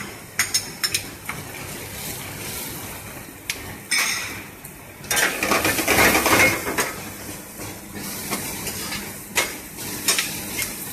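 Sliced onions and curry leaves fry in a pan for sambhar, with utensil clinks and scraping stirs over a soft sizzle that swells into a louder burst midway, then settles back to intermittent clatter.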